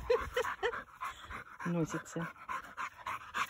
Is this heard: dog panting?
yes